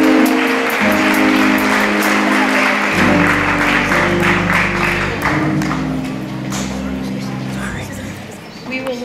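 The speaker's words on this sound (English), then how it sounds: "And a big round of applause." A classroom audience applauds for a school superintendent while a low sustained musical tone plays underneath. The clapping is dense and fairly loud, and it fades gradually toward the end.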